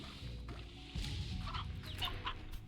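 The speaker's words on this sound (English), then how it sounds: "Got a few hens in here, that's nice." Video game hens cluck softly in short, scattered bursts, quiet and somewhat distant over a low background hum, with no talking.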